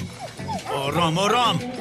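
A dog barks and yips repeatedly with rising whimpering tones, close and fairly loud, overlapping with a voice speaking.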